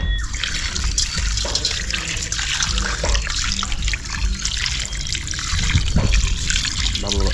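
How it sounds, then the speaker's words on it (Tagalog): Water pours steadily into a bowl for a salt brine to soak bangus (milkfish), a close, continuous splashing trickle that runs for several seconds and swells louder near the end. "Lalagay po tayo ng tubig."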